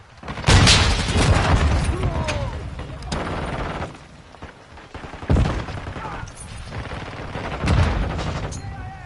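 Grenade blasts and bursts of gunfire from Modern Warfare 2 crash through a firefight, heavy booms and rattling shots landing in loud clusters with short lulls between, while voices call out over the combat.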